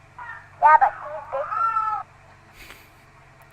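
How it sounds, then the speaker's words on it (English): A baby cries in the background of a phone call to a Milwaukee 911 operator, giving wavering wails that come through thin and filtered, mixed with a voice speaking over the line. "you can hear the baby crying in the background now"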